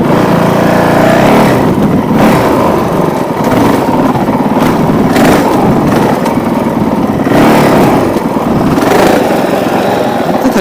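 A Honda CRF450L dirt bike engine drones loud and close while riding single-track trail through an old enduro section, revving up and easing off in repeated surges with no talking.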